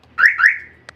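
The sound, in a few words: car anti-hijacking alarm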